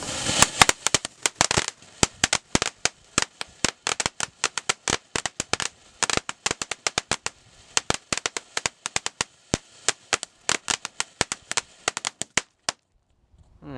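A Black Cat Party Hardy firework showers a white burst and crackles outdoors, with dense rapid sharp pops rattling on for about twelve seconds before cutting off.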